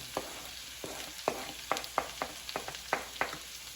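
Onions and green pepper sizzle in a pan with bacon and red potatoes, and a utensil stirring them gives soft scraping taps over a steady frying hiss, close and fairly quiet, with no voices.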